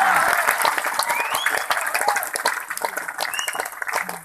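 Dense, close applause from a crowd at a Hindi poetry recital, a kavi sammelan, with sharp overlapping claps that stay loud and steady and a few whistles rising through it.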